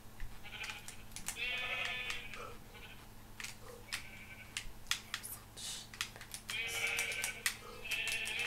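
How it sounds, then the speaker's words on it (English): Sheep in the Minecraft video game giving several short bleats, irregular and clear, over quiet clicking from keyboard and mouse. "I'll punch the sheep to death."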